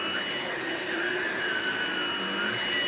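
A Ryobi 18V ONE+ cordless stick vacuum (PCL720B) runs with a steady, moderately loud motor whine and airy hiss that holds evenly throughout, with no other sounds.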